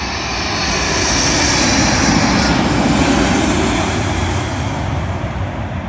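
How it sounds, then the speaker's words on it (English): A British Airways Boeing 777 from Newark lands on Heathrow runway 27L, its engines a loud, steady, close roar that swells gently and holds for the whole stretch. "Arriving in now is the British Airways Boeing 777, working service from EWR New York to London Heathrow"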